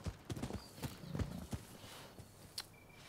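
A horse's hooves clip-clop at a steady walking pace in the video game Rise of the Ronin, fairly close and clear, with a brief whinny and no talk.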